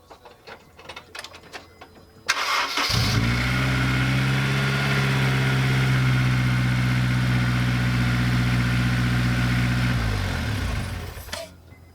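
A Honda S2000 sports car engine starts up and settles into a steady, loud rumbling idle nearby, holding for several seconds before cutting off.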